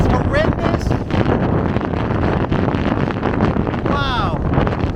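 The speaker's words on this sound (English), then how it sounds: "the wind is horrendous" Strong wind buffeting the microphone on the coast at Stanley in the Falkland Islands near a shipwreck, a loud, continuous roar with gusty rumbles filling the whole stretch.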